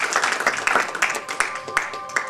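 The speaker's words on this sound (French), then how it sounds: "Je tiens, si possible, à l'applaudir" Scattered applause from an audience at a performance event in Carnac, with uneven bursts of clapping and some crowd murmur blended throughout the short stretch.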